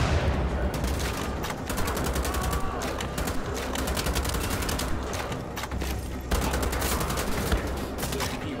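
Rapid bursts of gunfire in Wolfenstein: The Old Blood, crackling shots rattling in dense volleys over a steady rumbling background, pausing briefly around the middle before the firing resumes just as intensely.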